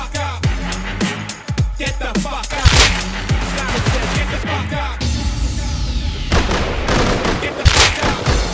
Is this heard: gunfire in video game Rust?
yes